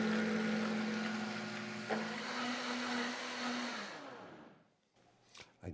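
A blender beats eggs with a loud, steady motor whir that drops in pitch partway through, then stops and leaves a few faint knocks and clatters.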